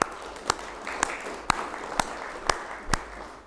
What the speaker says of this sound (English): I want to take just a moment and actually congratulate him with a round of applause